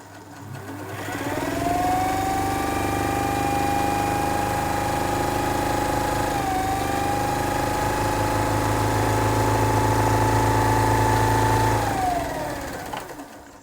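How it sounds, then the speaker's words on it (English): A Bernina 117L domestic sewing machine runs fast and steady for about ten seconds, a loud, close whirring hum with a rising pitch as it speeds up and winds down at the end. "So you can see what I mean about it being fast"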